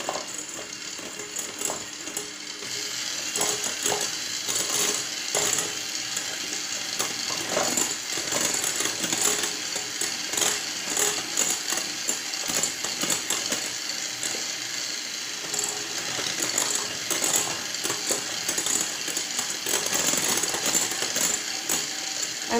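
A mixer beats a whipped cream mixture as milk is added bit by bit, giving a continuous, moderately loud whirring and rattling churn that runs steadily throughout, with no voices.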